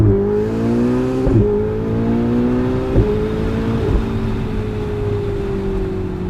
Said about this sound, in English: We are in the Ferrari 488 in the middle of rush hour traffic, and what that means is you really can't do much except short bursts of acceleration.